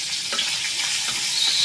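Rohu fish pieces fry in oil with a continuous crackling sizzle and a few soft stirring scrapes, close and steady, with no voices.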